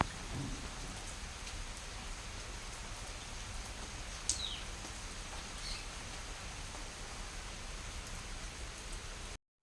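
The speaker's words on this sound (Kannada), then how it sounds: "ನೆಕ್ಸ್ಟು ಬೆಳಗ್ಗೆನೇ ಮಳೆ ಸ್ಟಾರ್ಟ್ ಆಗಿಬಿಟ್ಟಿತ್ತು." Steady morning rain falling as a soft, even hiss with a faint distant rumble, continuous and fairly quiet throughout.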